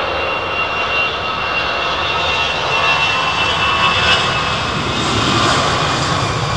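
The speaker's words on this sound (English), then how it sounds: "these are confirmed as Rolls-Royce, as Pratt & Whitney PW4000s" Pratt & Whitney PW4090 engines on a heavy United jet airliner at London Heathrow roar continuously, a broad loud rushing drone with a high whine, heard close-up and outdoors with no speech.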